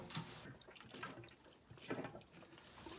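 Water flushing through a truck heater core hose on a 2002 Dodge Ram 1500, poured in from a kettle: a steady, close gurgling splash that runs without a break and swells briefly near the end.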